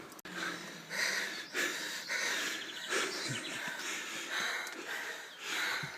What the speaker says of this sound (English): It's quite a steep hill, as you can hear by my breathing.